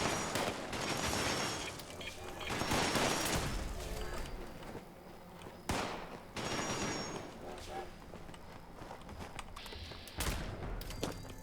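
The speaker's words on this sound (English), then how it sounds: "Someone is using a ray rifle." Ray rifle fire in the online game Fallout 76: rapid bursts of crackling energy shots come in waves over several seconds, mixed with other combat noise while a voice talks over it.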